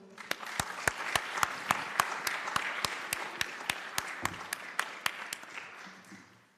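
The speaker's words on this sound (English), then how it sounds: "Please give yourselves a round of applause." Small audience at a democracy school workshop applauds in slow, rhythmic unison, sharp evenly spaced claps over a softer scattered patter, trailing off with faint voices at the end.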